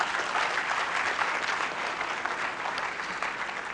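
Sustained applause from a university conference audience greeting a speaker, an even crowd-wide clapping texture holding for several seconds at moderate distance, with no talk over it.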